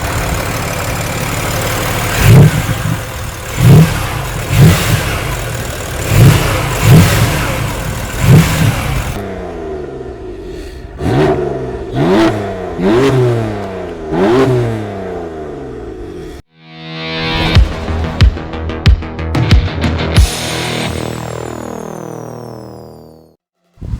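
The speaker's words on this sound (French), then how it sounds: "nos amis ils aimeraient écouter le son de ton moteur" BMW M4 F82 engine starting up and revving, with loud repeated throttle blips rising and falling close by, then a steady idle between bursts, no talking.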